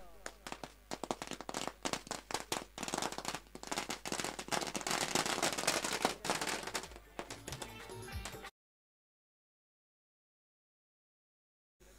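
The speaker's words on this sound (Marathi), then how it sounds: "आपल्या फटाक्यांच्या आतिषबाजीनं इथे स्वागत केले जाते" Firecrackers burst in welcome at a cricket match final, a rapid, loud string of crackling pops lasting about eight seconds before cutting off into silence.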